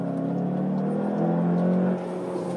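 A 2019 VW Jetta GLI 35th Anniversary with a 252-horsepower turbocharged engine pulls hard from inside the cabin on a city street, its engine note rising steadily for about two seconds and then easing off.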